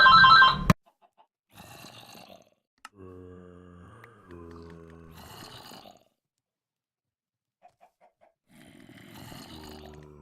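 A telephone rings indoors, its tonal bursts repeating in a few separate rings with quiet gaps between, fairly loud and close, with no talk over it.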